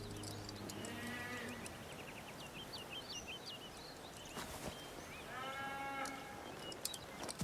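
Cattle lowing at a farm in a TV drama, drawn-out moos and calls rising and falling over a noisy outdoor background, with bird-like chirps and a few sharp knocks.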